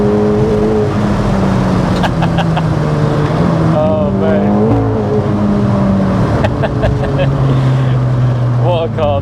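Loud, hard-driven bright yellow 384bhp MK2 Seat Cupra R with engine note rising and falling through gear changes, constant road and wind roar, and people talking in the cabin over it.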